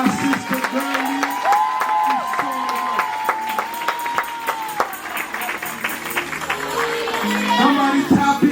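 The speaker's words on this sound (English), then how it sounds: "Come on, clap your hands for our sister Girlie." Church congregation clapping for a woman during a prophetic service; brisk, uneven handclaps spread across the room, with cheering voices and shouts rising through the applause.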